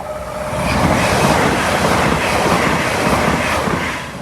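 A Lumo passenger train rushes past the Moat Hills level crossing, close and loud, in a broad, steady roar of wheels and rails that swells up and then eases off at the end.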